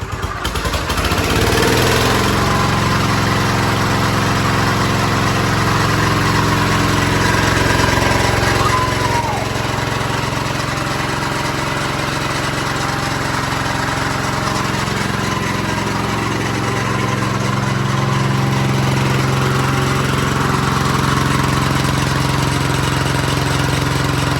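An old Ford tractor engine runs loud and steady at full throttle, a continuous rough drone that barely changes throughout.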